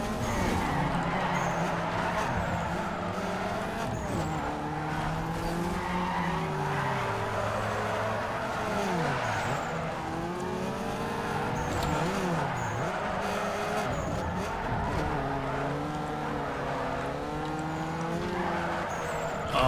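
Drift racing in Need for Speed Underground 2, with a TT, a Lancer and a Hyundai Coupe, brings continuous engine roar and wavering, sweeping tire squeal as cars slide through corners, loud and sustained with no voices.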